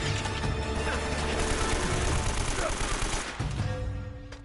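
Rapid video-game gunfire in Uncharted, a dense, continuous burst of shots with mechanical clatter, loud and close, fading near the end.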